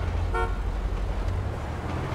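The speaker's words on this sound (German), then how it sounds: "Muss ich hupen?" A car horn in Grand Theft Auto V gives one short honk early on, over a steady low engine rumble inside the vehicle.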